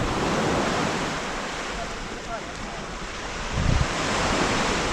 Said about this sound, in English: The sea is quite choppy, but very clear.